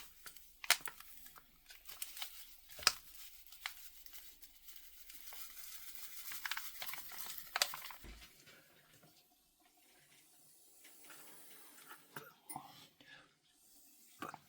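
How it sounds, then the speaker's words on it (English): Fine sand sprinkled by hand onto a 1:8 scale model base for a Mondoshawan figure, a soft, close hissing patter in scattered bursts that thins to faint rustles after the first several seconds. "But let me get the sand. And just start sprinkling this on."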